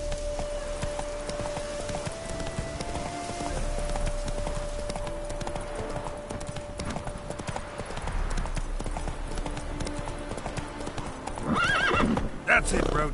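Roach the horse gallops in The Witcher video game, with a steady close clip-clop of hooves and a brief whinny, heard under voices and ongoing game ambience.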